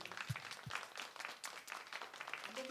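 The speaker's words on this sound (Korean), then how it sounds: "우리 동아에게 박수 한번 해줘요" A church congregation claps together after a sermon illustration, a short burst of soft, scattered applause heard at moderate distance with a few stray low thumps.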